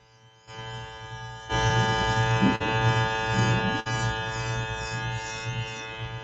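An airbrush sprays paint with a steady electric compressor hum and buzz underneath, the airflow rising as the trigger is eased back, with two brief clicks along the way.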